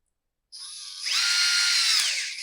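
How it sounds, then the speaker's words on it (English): Power driver running T20 screws into the replacement heated handle of a Husqvarna 572XPG chainsaw, a single steady whirring drive that starts abruptly after a short silence and holds for about two seconds, close and loud. "And then we'll get this screwed down. These are going to be T20 screws."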